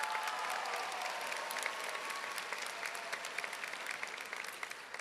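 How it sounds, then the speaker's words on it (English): Sustained audience applause fills a high school graduation ceremony for the Arlington High School Class of 2025, a dense, steady wash of many hands clapping at a distance with no voices standing out, holding at an even level throughout. "I want us to give a round of applause to Nathan as well, please."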